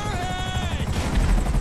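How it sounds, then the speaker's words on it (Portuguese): A helicopter in the PS4 video game GTA V gives a loud, steady rotor roar with a thin whining tone on top, continuous and close throughout. "Sai, helicóptero, sai."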